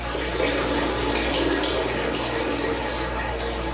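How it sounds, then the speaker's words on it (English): Water drains and trickles off dyed fabric lifted from an acid dye bath, a continuous close splashing pour with a low steady hum beneath, no talking. "You want to let as much of this water drain as possible."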